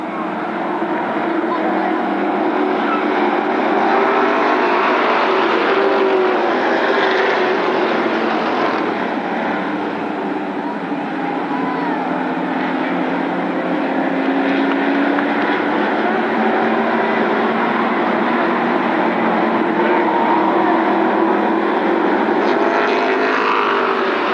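Sportsman stock cars race in a feature at Berlin Raceway, a steady loud engine drone from the pack holding the whole time with rising and falling tones as cars pass. A public-address announcer talks over the noise throughout.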